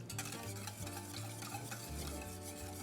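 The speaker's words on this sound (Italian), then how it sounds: "Nel mentre che loro friggono ma non si bruciano, ecco. noi le giriamo ancora" Pieces of pork fry in a pan while being turned, giving a steady, dense sizzle with intermittent stirring scrapes and a low hum underneath, close and continuous with no talking.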